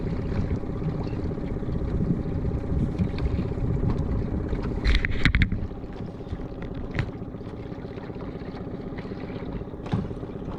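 A Gheenoe LT10 boat with a 9.9 outboard motor gives a steady, close engine drone mixed with water noise, which drops to a lower, quieter level about halfway through.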